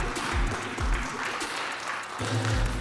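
Spectators clap at a street basketball tournament, a fairly faint, continuous patter of hands mixed with low thumps and outdoor rumble, lasting a few seconds.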